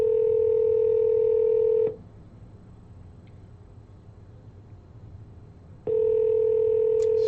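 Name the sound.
telephone dial tone while calling Phil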